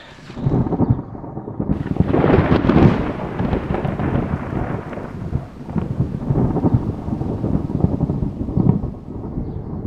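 Steady rain pours down with a dense, hissing wash during a lightning storm high in the San Juan Mountains, Colorado, while a deep rumble of thunder rolls underneath and swells at times.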